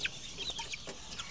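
Chickens and a rooster on a farm cluck in short scattered bursts, fairly faint and close against a quiet background.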